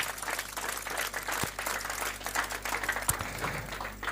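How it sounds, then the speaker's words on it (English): Audience applauding new brand ambassadors Asake, Kizz Daniel and Chike at a Glo launch event, sustained crowd clapping with a low hum underneath and a couple of louder thumps punctuating the steady patter. "Could you clap for them loudly one more time?"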